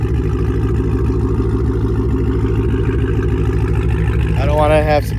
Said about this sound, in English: here's the exhaust sound. Just a rough idle.